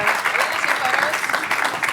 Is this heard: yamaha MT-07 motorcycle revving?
no